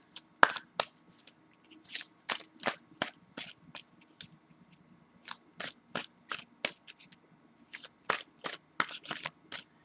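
A deck of tarot cards being shuffled up close, a quick run of crisp, snappy riffles and flicks in an irregular rhythm against a quiet room background.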